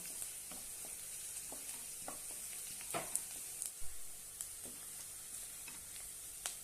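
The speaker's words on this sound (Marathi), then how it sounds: "लसणाच्या पाकळ्या उभ्या कट करून घेतलेल्या आहेत ते घालूया सर्व छानपैकी परतून घेऊया" Sliced garlic cloves sautéing in a pan with besan and okra, a soft, faint sizzle under light intermittent taps and scrapes of a stirring spoon, no talk.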